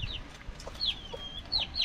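Chickens with chicks and a rooster on a farm, several thin high chick peeps and a few soft clucks in quick succession, close and fairly quiet, with no talking.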